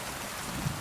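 Steady rain falling, a dense, even hiss that fills the whole short stretch at moderate level, with no voices over it.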